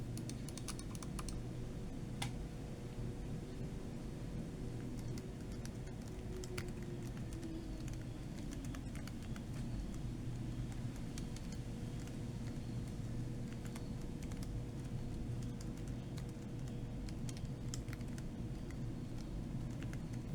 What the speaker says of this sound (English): this has a really good soft typing feel to it, and the switch that I use have very little noise